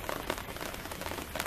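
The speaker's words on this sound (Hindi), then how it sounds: "बूंदाबांदी अब हो रही है" Light drizzle falls outdoors at midday, a steady dense patter of fine drops with soft irregular ticks, close and even throughout, with no talking.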